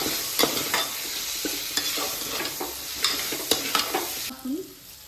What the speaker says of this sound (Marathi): मीठ चवीप्रमाणे थोडंसं पाच मिनटं परतून घ्यायचं